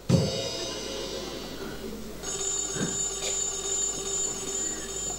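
A telephone bell rings in a stage musical scene, a bright sustained ring that starts with a thump and carries on steadily at moderate volume with no voices over it.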